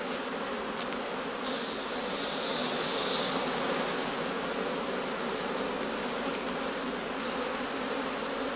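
Bees foraging on heather blossom at a skep apiary, a dense continuous buzzing hum filling the air at a steady level, with no voices.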